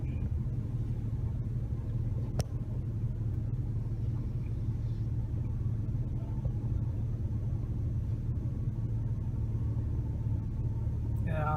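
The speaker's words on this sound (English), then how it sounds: "See all of the traffic." A steady low rumble of road traffic with a line of cars passing, continuous and fairly close, with no clear breaks and a faint click near the end.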